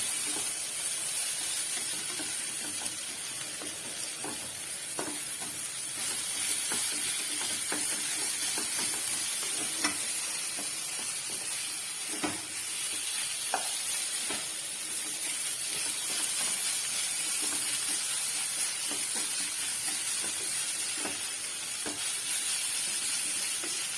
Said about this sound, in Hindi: ये चीज आप घी में भुनने के साथ ही डाल दें, ताकि ये भी थोड़ी सी इसके साथ तल जाए